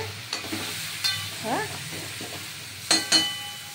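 Mixed vegetables fry in a pan for a vegetarian curry, a steady sizzle broken by scraping strokes of a spatula and a couple of sharp metallic clanks.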